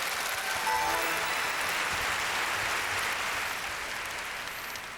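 A concert audience applauds steadily before a lecture, a dense wash of clapping that holds strong throughout and tapers slightly toward the end, with no voices over it.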